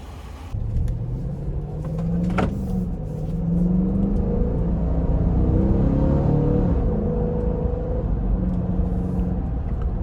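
A 2020 Dodge Durango R/T with its 5.7 liter V8 HEMI accelerates on the road in sport mode, the engine note rising in pitch and swelling louder as it pulls, a close steady rumble with no talking.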